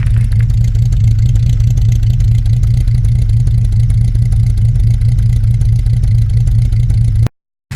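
A Holden Torana engine with a pretty much standard exhaust runs loud and close, a steady deep burbling rumble with slight revving throughout, cutting off abruptly just before the end.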